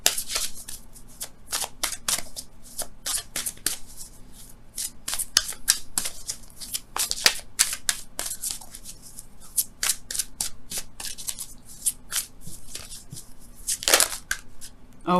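Angel oracle cards shuffled for a tarot reading, a steady run of crisp riffling and slapping bursts repeating close up through the clip with no talking.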